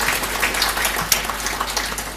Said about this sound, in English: Whoa, another clap for Andy.